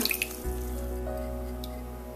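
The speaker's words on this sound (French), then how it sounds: "On ajoute environ une demi-tasse d'eau" About half a cup of water goes into old-fashioned pork and beans in a slow cooker, a short steady pour with a faint clink at the start, close and fairly quiet.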